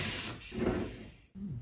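Nitrogen gas rushes out with a loud, close hiss while a cold brew keg is being charged, a broad steady spray that swells, cuts off abruptly and then resumes briefly.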